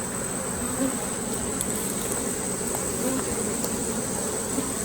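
Honey bees swarming around an open hive during a transfer into a Layens hive, a dense continuous buzzing drone close by, steady and moderately loud.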